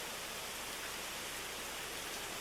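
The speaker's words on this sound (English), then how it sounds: "Well, now the rain's coming straight down" Heavy hurricane rain from the 1991 Hurricane Bob falls straight down in a faint, steady, unbroken hiss with no other sounds standing out.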